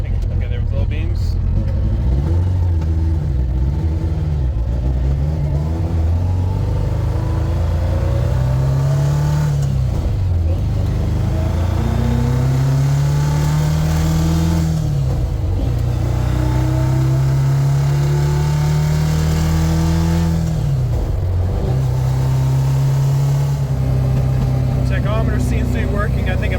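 Motorcycle-swapped kei truck engine revving loudly near 12k rpm in repeated rising and falling pulls, with sharp pops and backfires between revs while someone talks over it.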